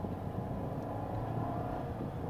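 A car being driven gives a steady, muffled low rumble of engine and road noise from inside the cabin, continuous and even with no speech.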